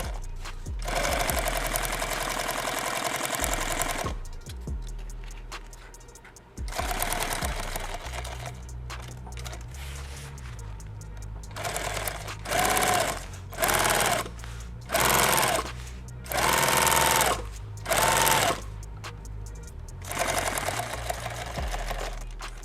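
A sewing machine runs at high speed in repeated bursts while a bag is built, each run close and loud with brief pauses between stitching passes.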